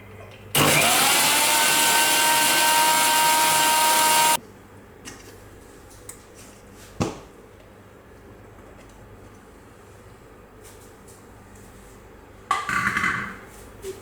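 A blender whips oil into mayonnaise in a loud, steady, high whirring burst of about four seconds, then cuts off, leaving quiet handling noises and a brief later whir.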